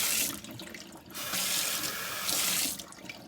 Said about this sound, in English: you're gonna get a squirt bottle. You're gonna add hot water,